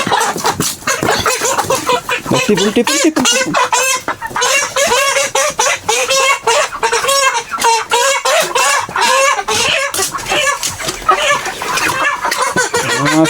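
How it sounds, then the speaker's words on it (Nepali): Dense clucking and squawking from a crowd of chickens, likely broilers, packed near a vehicle at a poultry loading spot; loud and continuous with no talk. "यहाँनिर हाम्रो कुखुरा कति छ यो आज गाडीमा अट्दैन"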